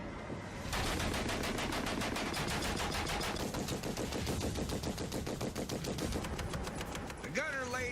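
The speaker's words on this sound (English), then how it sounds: "The gunner lays down as much suppressive fire as he can, while the driver uses his skills to get us out of harm's way" Sustained machine-gun fire from an M8 Greyhound armoured car rattles in a rapid, steady stream of loud, close shots for several seconds, then cuts out to a brief tail of other noise.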